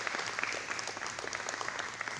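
Steady applause from an audience at a men's community breakfast, a dense even patter of many hands clapping continuously throughout.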